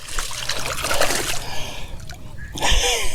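A fishing reel drops and splashes into water, a short burst of splashing and trickling followed by a second splash near the end, with some talk in the background.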